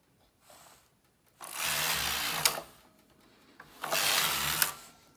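A domestic knitting machine works two rows of a sock, its carriage making two long rasping, whirring passes. Each pass runs about a second, with a pause between them and faint clicks before the first. No one talks.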